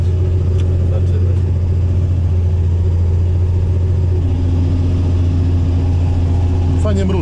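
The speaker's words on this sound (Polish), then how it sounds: "No praca silnika jest naprawdę bardzo ładna." A John Deere tractor engine runs steadily close by during heavy field cultivation, with a deep continuous rumble and hum that holds throughout and a brief rise in pitch near the end.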